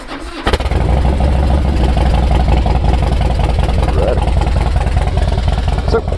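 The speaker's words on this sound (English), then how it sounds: "So go ahead and fire it on up." A 2005 Harley-Davidson Softail Springer Classic with dual Vance & Hines pipes cranks over and fires up, then settles into a loud, close, lumpy idle that rumbles steadily to the end.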